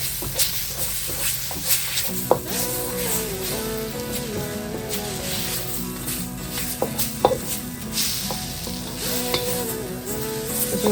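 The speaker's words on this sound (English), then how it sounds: "I'm going to give that a good stir for a couple more minutes as well." Spices sizzle and fry steadily in a hot pan while being stirred, with a constant hiss broken by occasional scraping knocks of the utensil, close and continuous with no talking.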